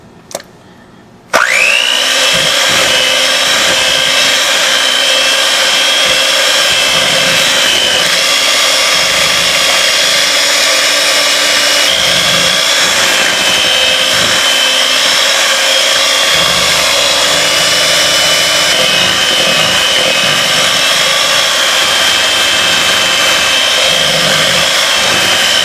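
An electric hand mixer beats room-temperature large eggs, added one at a time, into key lime pound cake batter. It gives a loud, steady high whine that starts suddenly and runs without a break. No one talks over it.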